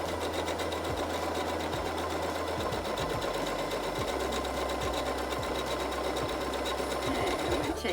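A sewing machine stitches and back-stitches a pillowcase seam, a steady rapid mechanical whir and rattle running close and continuous.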